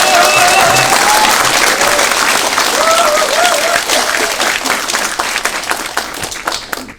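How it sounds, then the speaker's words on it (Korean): Loud, dense audience applause after a lecture by a former Korean prime minister, filling the hall close and strong, with a few voices calling out over it before it thins and fades at the end. "오늘 박수를 치려면 제대로 치십시오."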